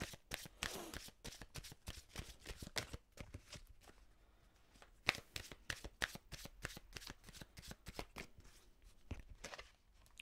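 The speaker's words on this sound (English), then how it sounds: "I'm going to take a couple of love oracle cards as well." Oracle cards being shuffled by hand, a long run of quick crisp riffling flutters in close succession with a brief pause midway, close and clear with no talking.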